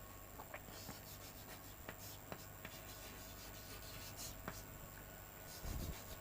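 A pen writing an expense entry on paper in an accounting lesson, heard as faint, soft scratchy strokes with a few light taps over steady background hum, alone without talk.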